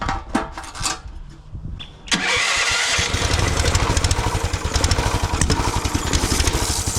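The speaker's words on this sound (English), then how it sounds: "Key start for a little buggy." Small engine on an off-road go-kart buggy, key-started: a short cranking stutter, then it catches and runs at a steady, loud, throbbing idle close by, with no talk.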